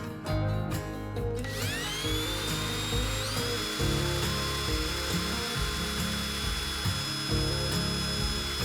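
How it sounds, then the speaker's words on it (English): Power drill with a very small bit boring holes in a metal tomato paste can for a DIY alcohol stove, a steady close motor whine with bursts of rough grinding and a sharp metallic ringing tone. "take your drill and a very small drill bit and drill a hole above each of the holes"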